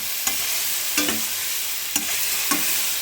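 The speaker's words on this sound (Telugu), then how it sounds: "సో ఇలాగా హై ఫ్లేమ్ మీద ఒక 3 to 4 minutes వేపాలండి" Mushroom garlic rice fried on high flame, a continuous sizzle broken by four sharp spatula scrapes against the pan, close and without speech.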